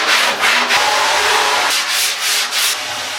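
A foam surfboard blank being hand-sanded to clear CNC machine grooves, a steady loud close rasping with rhythmic back-and-forth strokes and no talk.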